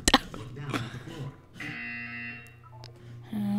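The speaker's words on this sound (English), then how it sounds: "You will hear a buzzer." A buzzer sounds in the video game Portal 2, a sustained electronic drone lasting about two seconds, heard after and partly under a man's speech.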